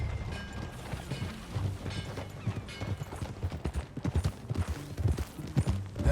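Horse hooves clip-clop at a steady riding gait in the Red Dead Redemption 2 video game, a continuous rhythmic patter of footfalls close by with faint mechanical creaks over it, and no talk.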